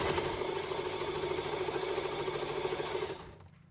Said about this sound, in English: And I'm sewing fast because I'd like it to be straight.